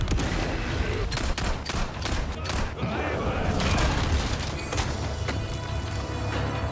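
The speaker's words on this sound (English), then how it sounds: "Grenade out." Resident Evil 4 Separate Ways gameplay: dense, loud gunfire and explosive booms fill the whole stretch, with sharp shots clustered early and a rumbling blast mid-way, all over constant noisy game sound.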